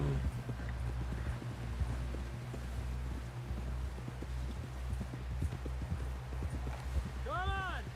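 In Red Dead Redemption 2, a horse's hooves clip-clop in a steady rhythm while characters talk over them, and the horse lets out a short whinny near the end.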